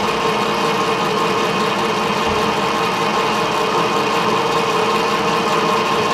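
A 10-inch metal lathe runs steadily while cutting curls of metal, giving a constant, even machine hum and whir with no pauses or talk.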